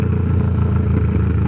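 Kawasaki Ninja 650 (2018) exhaust idling with a loud, steady, close low-pitched drone that holds without a break, with no talk over it.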